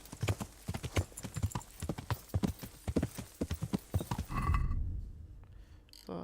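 Horse hooves clip-clop in a steady, close rhythm while riding in the medieval video game Kingdom Come: Deliverance. The beat stops near the end and a brief, softer rustle follows.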